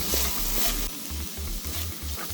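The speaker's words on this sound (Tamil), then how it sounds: "பூண்டு இஞ்சி பேஸ்ட்டு நல்லா கொஞ்சம் அந்த வாடை போக வதக்கிட்டு, பச்சை வாடை வராமல் நல்லா வதக்கி விட்டுட்டு" Garlic ginger paste sizzles and fries in a hot pan, a steady close crackle overlaid by a low rhythmic scraping of stirring strokes.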